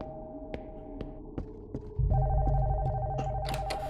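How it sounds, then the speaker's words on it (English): A telephone rings upstairs in the video game Nocturnal Visit, a steady electronic ringing tone over a low throbbing hum and repeated heartbeat-like thuds, growing louder and denser in the second half. "The phone upstairs is ringing, but I can't get out of here."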